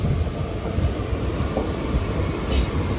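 The Mannargudi express train passes close by on a single line, its wheels squealing sharply over a loud, dense rolling rumble.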